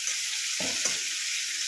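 Prawns fry in a pan with a steady, loud sizzle that fills the whole moment, with two soft low thumps of stirring or turning partway through.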